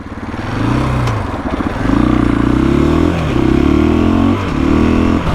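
A 2021 KTM 500 EXC dirt bike ridden during break-in without redlining: a close, loud single-cylinder engine note rising and falling through several revving pulls, with gear changes and short dips between them.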